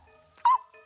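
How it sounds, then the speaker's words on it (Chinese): A cartoon dog in an animated film gives a single short, sharp yip or bark, brief and fairly close, over a quiet background. "好像有狗叫。"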